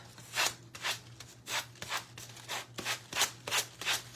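Ends of homemade tabletop fireworks are sanded by hand in about ten even back-and-forth rubbing strokes, close and moderately loud, with a steady low hum underneath.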